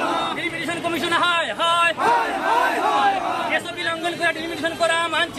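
Hundreds of protesters in a city street shout slogans against a delimitation draft. Many voices chant in loud, rhythmic bursts that stay dense and close throughout.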